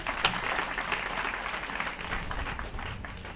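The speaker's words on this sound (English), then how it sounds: "Let's give that a round of applause." An audience at an OVTC Institute trainee event applauds, giving dense, steady clapping that stays level and continuous with no voices over it.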